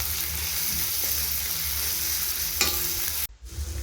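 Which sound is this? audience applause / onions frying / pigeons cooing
onions frying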